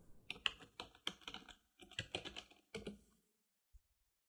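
Several short bursts of clicky keystrokes on a computer keyboard, close and clear, typed in quick runs with brief pauses between them, then quiet at the end.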